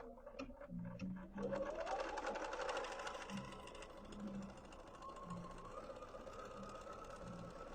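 A sewing machine stitching down a seam, running as a steady mechanical whir with faint ticking for most of the stretch, fairly quiet and close.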